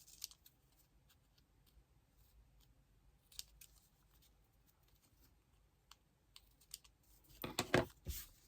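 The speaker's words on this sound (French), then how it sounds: "On va découper ce qui dépasse." Scissors trimming excess paper from a small art-journal scrapbook collage, quiet scattered snips and paper rustles building to a louder burst of cutting near the end.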